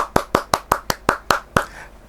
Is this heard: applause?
yes